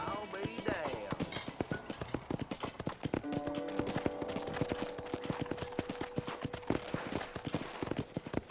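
Horse hooves clip-clop steadily and close throughout at a ranch corral in the Red Dead Redemption video game on Xbox 360, a brisk, even rhythm of sharp hoof strikes with a faint sustained tone entering partway.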